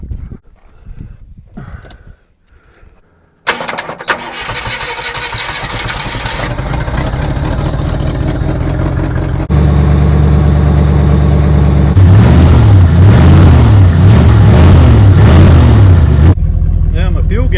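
A Ford Galaxie wagon engine cranks, catches and settles into a loud, steady idle that swells stronger partway through, with brief voices before it starts.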